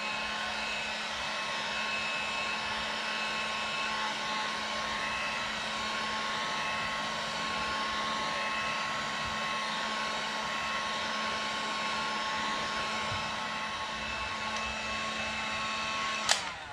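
A heat gun blows steadily while warming a case saver on a Suzuki DRZ 400 SM, a constant close airy whoosh with a faint hum, ending in a short click.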